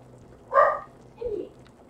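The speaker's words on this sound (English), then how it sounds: "So that's why the dog is freaking out." A dog gives two short barks indoors, reacting to a grocery delivery arriving at the door; the first bark is louder and the second follows about half a second later, with no talk over them.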